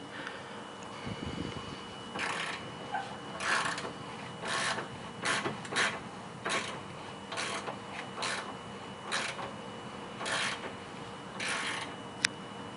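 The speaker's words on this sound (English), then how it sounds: "So after I loosened up the control arm bolt, I'm gonna take off this 14mm." A 14mm bolt being removed with a socket wrench from the rear suspension of a 2011 Scion tC: repeated short bursts of ratcheting clicks about once a second, close and fairly quiet, with one sharp click near the end.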